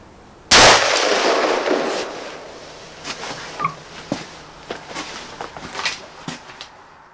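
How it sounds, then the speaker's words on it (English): A single sharp, loud report from a Winchester M70 Featherweight rifle at an outdoor range, followed by a decaying echo and faint scattered rustling and footsteps. "I'm gonna fire one more and then go down there and find out where my bullets are"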